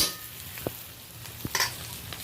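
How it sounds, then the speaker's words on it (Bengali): Onion and tomato fry quietly in a pan as they are stirred, giving a soft low sizzle broken by a few brief scrapes and taps of the spoon. "এই যে পেঁয়াজ টমেটোর সাথে ভালো করে আমি নেড়ে নিচ্ছি"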